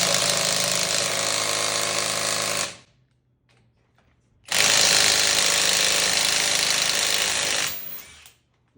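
A Somada cordless impact wrench in turbo mode hammers at a car lug nut in two loud sustained bursts, each lasting a few seconds, separated by a short pause.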